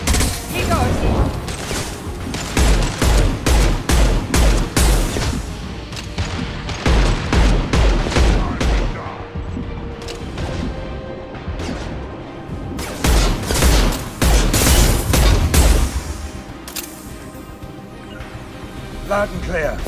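Rapid bursts of gunfire and heavy impact shots from the Mass Effect 2 video game come in dense volleys, loud and close, with short pauses between clusters and game voices calling out over the combat.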